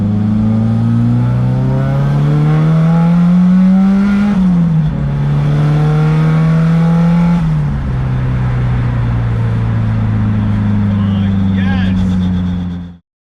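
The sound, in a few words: SR20 engine revving with HKS wastegate at 10 PSI boost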